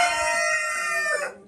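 A rooster from a Splash breeding family gives one loud, close crow, rich and drawn out, ending in a falling tail.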